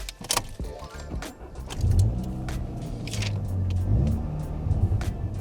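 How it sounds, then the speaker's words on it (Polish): A VW Golf 7.5 GTI Performance idles and then pulls away, its exhaust giving a low, steady rumble that rises slightly as it moves off, heard up close. "bardzo fajnie brzmi wydech"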